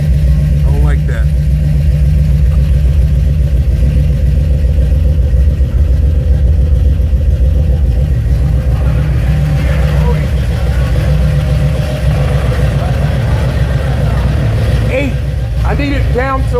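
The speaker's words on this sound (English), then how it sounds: "that's how my car sounds after it got hot" A Buick 455 Regal-T engine with a defective fuel pressure regulator and fan controller idles hot with a steady low rumble up close, while a voice talks intermittently over it.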